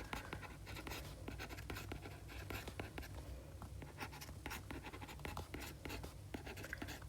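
Chalk or marker writing on a lecture-hall board during a probability class, a continuous run of close scratchy strokes and taps with no talking.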